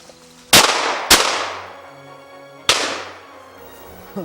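Three loud shotgun blasts ring out during an upland woodcock hunt in the Vermont woods, two in quick succession and a third about a second and a half later, each fading with a long echoing tail.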